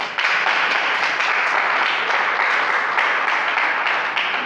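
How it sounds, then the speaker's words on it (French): An audience at a church-style gathering breaks into sustained applause, a bright, continuous wash of clapping that holds steady for several seconds with faint rhythmic pulses. "Applaudissez."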